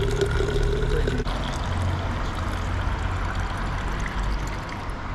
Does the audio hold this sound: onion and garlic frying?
no